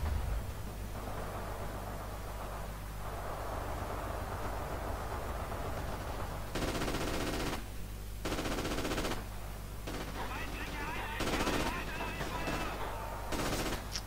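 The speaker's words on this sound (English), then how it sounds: "There's an MG gunner next to our tank" Sustained bursts of machine gun fire in the World War II shooter Forgotten Hope 2 at Port en Bessin, loud and repeated in several long volleys over steady battlefield rumble.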